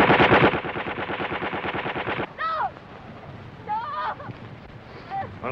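A firing squad's gunfire in a 1937 film: a loud, rapid rattle of shots for about two seconds, followed by high cries and shouting voices.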